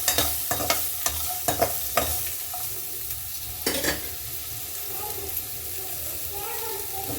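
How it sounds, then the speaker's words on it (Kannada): Onions fry in a pan for a rural-style mutton sambar, a steady sizzle broken by a run of crisp spatula scrapes and clicks early on that fade into softer, continuous frying. "ಈರುಳ್ಳಿ, ಸ್ವಲ್ಪ ಫ್ರೈ ಮಾಡ್ಕೊಳ್ಳೋಣ"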